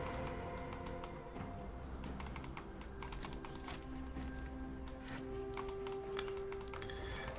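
Steady computer-keyboard typing runs throughout, a dense clatter of quick key presses at an even level, with no one speaking over it.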